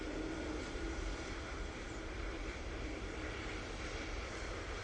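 An airliner landing at Manchester Airport, a steady broad roar of jet engines and rushing air at moderate distance that holds evenly from start to finish.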